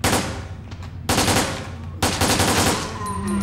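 Bursts of machine gun fire from the Resident Evil Dead Aim video game on PS2, loud and close, in three rapid rattling volleys with short gaps between them.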